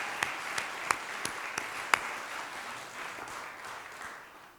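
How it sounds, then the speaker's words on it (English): Faint, scattered audience applause at an applied art and design award presentation ceremony, a few distinct claps standing out early before the sound thins into a soft, fading patter. "yeah, that's worth an applause."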